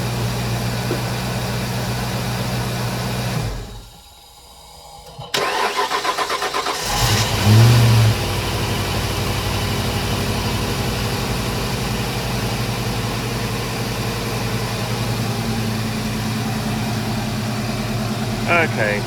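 A car engine cuts out, falls silent for a couple of seconds, then cranks and catches again during a battery test, settling into a steady idle; a person talks briefly.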